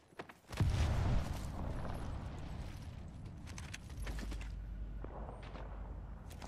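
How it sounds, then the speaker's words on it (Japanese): A thrown grenade going off in Apex Legends, one sudden deep blast near the start, then a rumbling tail and scattered faint clicks and movement. "グレネードを投げる。"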